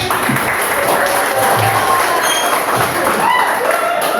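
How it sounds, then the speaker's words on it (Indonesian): Classroom applause for a student called to the front during an Indonesian lesson on the creative economy, steady clapping from a group of students with some voices mixed in, continuous and fairly loud throughout. "Kita kasih tepuk tangan dulu ya"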